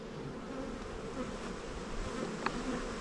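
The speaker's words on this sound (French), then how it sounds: "Beaucoup d'abeilles." Honey bees hum steadily and close around beehive frames, a dense continuous buzz with no one speaking.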